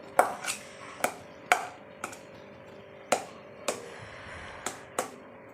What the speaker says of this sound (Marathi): असं फोडून घेऊ आता आणि मॅश करून घेऊ